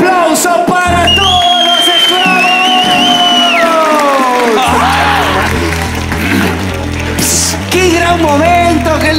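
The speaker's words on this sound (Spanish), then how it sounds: "un gran aplauso para todos" An audience at a Spanish show night applauds everyone on stage. The clapping and cheering swell loudly in the second half while music carries on underneath.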